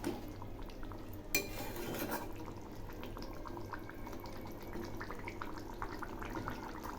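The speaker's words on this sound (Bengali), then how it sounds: "আবার একটু নেড়ে দিচ্ছি" A spoon stirs a katla fish curry with jackfruit seeds in a pan, with a sharp metallic scrape near the start, then soft clinks and wet stirring over a low bubbling bed.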